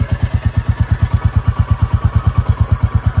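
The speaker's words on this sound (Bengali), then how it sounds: "এটা হচ্ছে আইডাল সাউন্ড।" A Royal Enfield Classic 350 Stealth Black idles close by, its exhaust giving a steady, loud thump-thump pulse at an even, slow single-cylinder beat with no voices.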